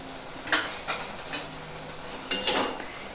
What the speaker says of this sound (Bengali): এটাকে এখন আমি একটু নেড়ে ছেড়ে নেব